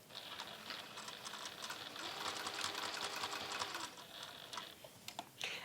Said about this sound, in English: your sewing machine